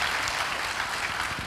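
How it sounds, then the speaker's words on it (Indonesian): Dense applause from a church congregation, steady and moderately loud throughout, with no voices standing out. "Berikan tepuk tangan kita untuk Tuhan kita."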